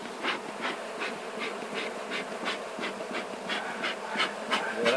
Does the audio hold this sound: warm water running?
no